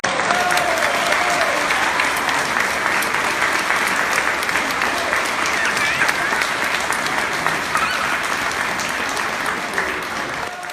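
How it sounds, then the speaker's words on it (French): Loud, dense audience applause at a live show fills the whole stretch, a steady roar of clapping with crowd noise that stays even and only eases slightly at the end. "sur vos applaudissements s'il vous plaît, Yves Jean-Louis et Blondedi Ferdinand."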